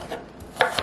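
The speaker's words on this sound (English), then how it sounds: "So I am just chopping up the veg right now." Knife chopping grape tomatoes and white onion on a board: a few quick cuts, two sharp close strikes near the end, alone with no talk.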